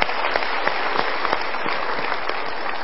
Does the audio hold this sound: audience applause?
yes